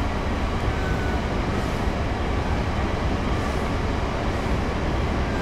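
Dense, steady rumble of a train passing on a British line in Train Simulator 2017, loud and continuous without a break.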